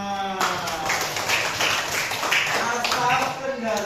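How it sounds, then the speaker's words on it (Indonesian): A class of children clapping together in a classroom, a steady patter of many hands over several seconds with voices mixed in. "Tepuk tangan untuk Rama"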